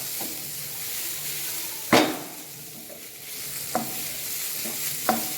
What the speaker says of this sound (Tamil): இப்போ எல்லாம் சேர்த்து மிக்ஸ் பண்ணி நல்லா வதக்கிட்டு இருக்கோம்.